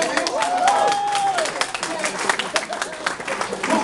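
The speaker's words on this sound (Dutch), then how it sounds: "Nogmaals een applaus" An audience in a hall applauds at a political talk, a burst of clapping with a whoop at the start, then scattered claps and murmuring.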